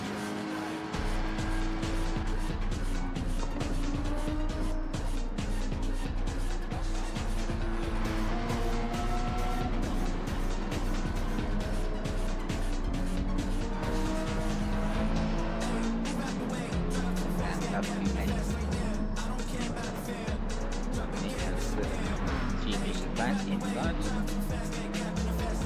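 Porsche Cayman GT4 race cars at the start of a Team Cup round: a steady, droning engine note that runs throughout, with rising and falling revs from several cars under constant noise.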